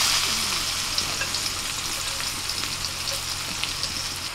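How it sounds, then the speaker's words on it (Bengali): Chopped onions frying in hot oil in a wok after potatoes were fried, a steady close sizzle with light stirring scrapes throughout, no talk. "কড়াইয়ে যে তেল আছে ওই তেলের মধ্যে দিয়ে দিচ্ছি পেঁয়াজ কুচি।"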